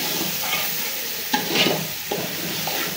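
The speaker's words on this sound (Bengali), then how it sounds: "তো চাল দেওয়ার পর হাত দিয়ে খুব ভালোভাবে নেড়ে চেড়ে চালগুলো ভেজে নিচ্ছি।" Washed pulao rice frying in a pan as it is stirred by hand, a continuous dry sizzle broken by scraping, rustling stirs and a few sharper knocks.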